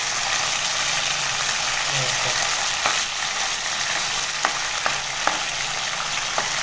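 Fish browning in hot oil in a pan, a steady loud sizzle and crackle throughout, with a few sharp spatter pops near the end and no talking.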